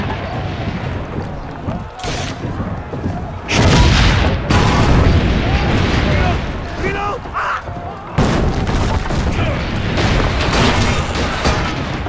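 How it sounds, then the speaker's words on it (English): Cannon fire in the video game Assassin's Creed Brotherhood, several deep booms and bursts among battle noise, with voices heard between the blasts. "Keep loading the cannon!"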